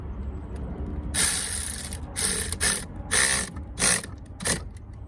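Ratchet wrench tightening a car battery terminal, making loud, close bursts of rapid clicking. A long run is followed by several shorter strokes with brief pauses between them.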